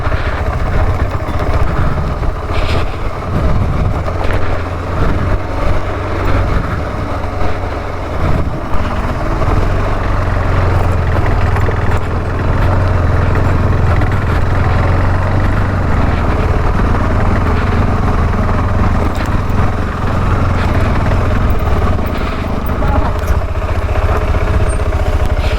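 A motorcycle engine runs steadily on a mountain road in Kinnaur near Kalpa, in the Spiti region. It gives a continuous, close rumbling drone that holds for the whole stretch with no talking.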